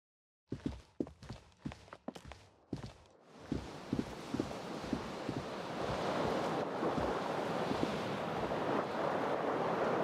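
Ocean waves in Disco Elysium rise into a steady, loud wash of surf that fills the scene, with a few sharp footstep-like knocks near the start before the broad roar takes over.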